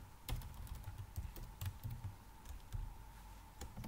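Steady run of computer keyboard keystrokes as C code is typed, the clicks irregular but continuous over a low background hum, close and fairly quiet with no voices.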